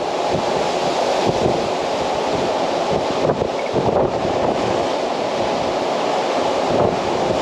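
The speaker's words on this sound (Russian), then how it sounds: "Ой, там идет вон 9-й вал, похоже." Large storm waves surge toward a rocky shore in Crimea during a powerful storm: a constant loud roar of surf with wind gusting across the microphone, no voices.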